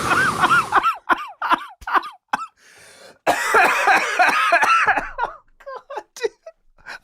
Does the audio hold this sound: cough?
yes